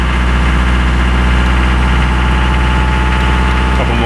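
A Mitsubishi Delica 4M40 diesel engine runs steadily at about 2000 RPM under cruise control, a loud, even clattering drone with a constant low rumble throughout.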